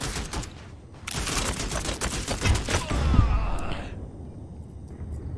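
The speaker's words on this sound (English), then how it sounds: "it's a very fun gun to use for this mission" Rapid automatic gunfire from a weapon in the video game Strike Force 3, a dense crackling burst of shots that fills the first four seconds before dropping away to quieter background game noise.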